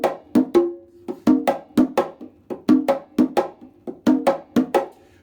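The itotele pattern for ChachaElekefuñ is played on a conga drum as a steady stream of close, crisp hand strikes, with open tones and slaps in a syncopated repeating rhythm and no other sounds.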